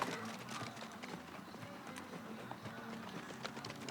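The Icelandic horse Sigur frá Stóra Vatnsskarði runs with a steady, quick clip-clop of hooves at moderate distance, under a faint crowd murmur and a distant voice.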